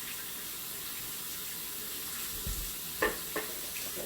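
A kitchen tap runs steadily while food is washed for a homemade chicken and potatoes dish, a soft continuous hiss of water with a few faint clunks and splashes near the end.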